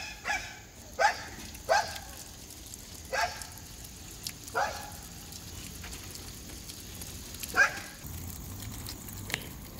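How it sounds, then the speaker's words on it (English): A neighbor's dog barks repeatedly at a moderate distance, about seven single barks at irregular intervals, heard outdoors in a garden over a steady background hiss. "Y'all forgive me about the dog, my neighbor dog"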